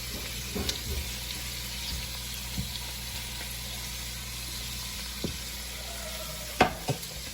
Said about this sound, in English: As you can see, the shrimp are cooking.